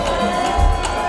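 Crowd at a Moroccan chaabi evening party cheering and clapping loudly, a dense continuous roar with a brief surge near the middle.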